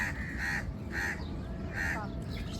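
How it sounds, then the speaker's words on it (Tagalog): A crow-like bird at a beach gives three loud, harsh caws in an uneven rhythm over steady background wash and murmuring voices. "bird!"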